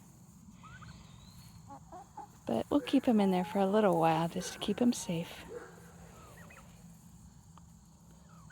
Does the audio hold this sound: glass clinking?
no